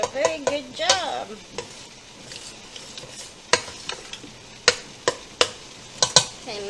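A spoon stirs and chops pineapple mango habanero jam in a pot, giving a run of close, sharp scraping clicks and wet knocks, some sizzle beneath and no talking.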